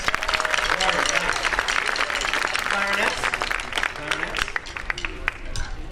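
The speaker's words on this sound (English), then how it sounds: "of applause for the trumpets" Applause rings out for the trumpet section at a school band concert, a crowd clapping steadily while a voice talks over it and stray instrument notes sound.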